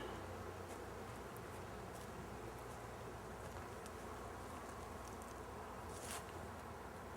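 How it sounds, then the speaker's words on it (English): Honey bees buzz in a dense, steady swarm as they are blown out of honey supers, a continuous close drone of many insects with no voices. "now I'm going to blow all the bees out of the honey supers"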